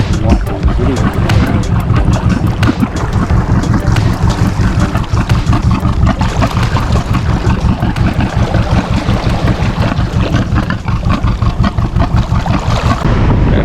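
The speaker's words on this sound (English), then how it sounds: "Bit of wave action now," Sailboat with mainsail down and engine running, rocking and rolling in choppy sea with small whitecaps, loud continuous wind buffeting and water wash with rhythmic thumps and no spoken voices.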